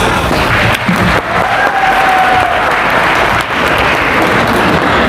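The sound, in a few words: applause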